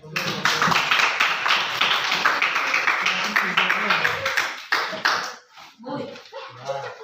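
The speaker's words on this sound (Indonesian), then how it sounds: "Tepuk tangan deh." Group applause from a classroom of students, dense rapid clapping filling most of the clip before thinning out into a few scattered claps and murmuring voices near the end.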